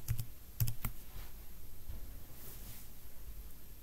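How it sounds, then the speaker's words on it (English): Password being entered on a keyboard for a Wi-Fi router's settings, a few quick key clicks at the start and then a faint, steady background hiss with no talking. "So I'm going to type my password."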